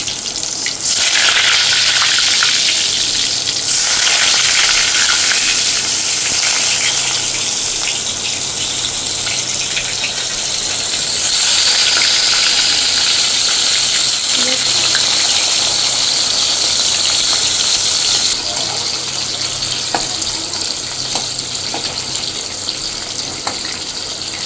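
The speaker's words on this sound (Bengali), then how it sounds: "আলুগুলো ভাজা হবে, তারপর আমি আলুগুলোকে তুলে নেব।" Potatoes deep-frying in hot oil for a spicy mutton curry give a loud, continuous hissing sizzle that holds steady for over twenty seconds, heard up close with no voices.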